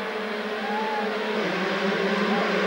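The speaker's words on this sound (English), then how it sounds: "Schmidt and Tractor there side by side as we wait for the gate to drop for the start of the 1991 125 World Championship Series." A pack of 125cc motocross bikes sits at the start gate of a 1991 World Championship round in Arco, Italy, engines droning and revving in a dense, steady roar heard from a distance.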